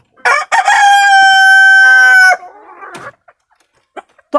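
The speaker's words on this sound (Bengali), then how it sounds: "এই যে মুরগিটা দেখতেছেন, এটা হচ্ছে ফাউমি মুরগি।" A Fayoumi chicken crows loudly and close by in one long, sustained cock-a-doodle-doo, with short clucks before it and a few softer clucks and rustles after.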